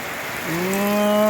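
Rain falls steadily in a soft, even hiss; about halfway through, a loud humming drone with stacked tones starts up and sits over it.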